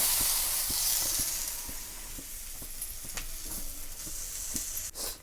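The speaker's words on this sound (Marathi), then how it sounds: "तर वरचं धपाटं छान असं भाजलं जातं आहे" Thalipeeth flatbread made with chigal greens and maize flour fries in a little oil on a hot griddle, giving a soft continuous sizzle and hiss with faint scattered ticks and pops, quiet and without talk.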